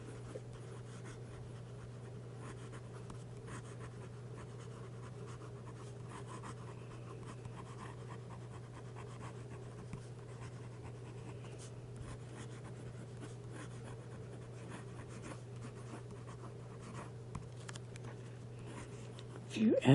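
Fast handwriting with a TWSBI 700 fountain pen on paper, a steady, faint, continuous nib scratching held close over a low constant hum, with a small bump at the very end.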